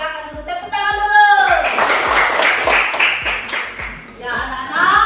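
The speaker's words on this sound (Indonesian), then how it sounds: "silakan dulu tepuk tangan dulu" Students in a classroom clap their hands in a steady rhythmic pattern of sharp claps alongside children's voices, close and fairly loud.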